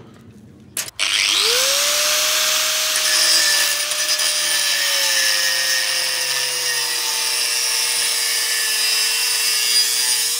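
A power drill bores a hole to refix the box on a homemade solar generator, a short knock at the start followed by a steady close whine that holds for about nine seconds.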